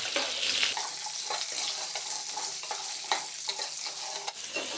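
Drumstick pods fry with salt in a pan over a medium gas flame, giving a steady hiss broken by repeated stirring scrapes and soft clatter, continuous and close with no talk.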